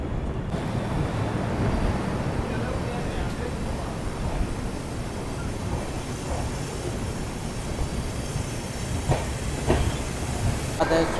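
Ahilya Nagari Express passenger train running, a continuous rumbling rattle of the carriage with rushing wind noise and occasional clacks over the rails, heard from inside the coach.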